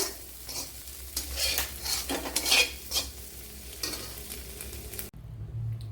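Egg masala fries in a pan, a close, steady sizzle broken by repeated scraping of a spoon against the metal, stopping abruptly near the end; no talking.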